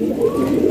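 A chougiya pigeon with white spots gives a brief, loud, close-up coo, a single sustained throaty tone with nothing else over it.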